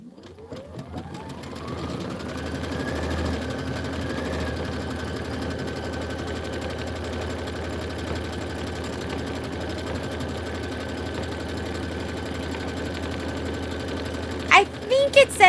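Sewing machine running steadily while stitching quilt blocks for a filler-block and border project, a continuous mechanical whir that holds for most of the stretch and ends in a few louder clicks near the end; a voice talks now and then over it.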